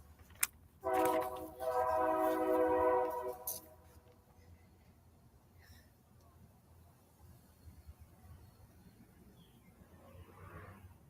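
A train rolls past, its horn sounding loudly with a strong harmonic blast for a few seconds before fading into low rumbling and distant background noise.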